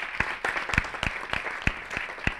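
Audience applause for the winning robot at a line-following robot competition, a small crowd clapping in uneven bursts at moderate loudness throughout.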